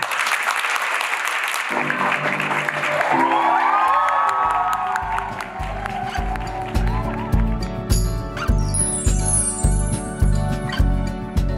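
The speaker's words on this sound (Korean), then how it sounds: "큰 박수 부탁드립니다." Wedding ceremony audience bursts into sustained clapping and cheering right after the couple is pronounced married, with scattered whoops and a bright jingling layer joining later over steady rhythmic music.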